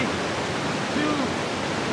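Rushing white water roars steadily at a cliff diving spot in Bosnia and Herzegovina, a dense continuous wash with a brief shout rising over it.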